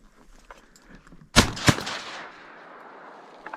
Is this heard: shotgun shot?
yes